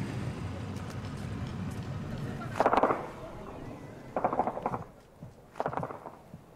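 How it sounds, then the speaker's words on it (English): Distant bursts of gunfire in Afghanistan: three short volleys of rapid cracks separated by a few seconds, over low ambient rumble and faint background voices. "The gunfire indicates that the Taliban are close"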